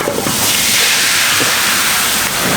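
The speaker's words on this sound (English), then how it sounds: "the jiao is just about the sound you just heard, that sizzling sound" Loud, steady sizzling hiss throughout as bánh xèo batter fries hard in a hot pan at a Saigon street food stall, close up with no pauses.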